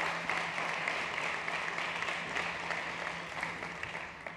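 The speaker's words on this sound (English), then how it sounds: "Big applause for David." Sustained audience applause at a startup competition stage event, dense, steady clapping from a crowd with a faint hum underneath, gradually easing toward the end.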